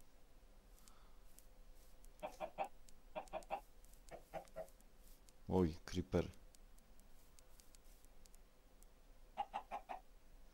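Minecraft chickens cluck in several short bursts of three or four rapid calls, moderately close, with a voice speaking briefly between them.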